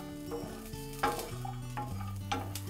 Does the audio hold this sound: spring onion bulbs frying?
yes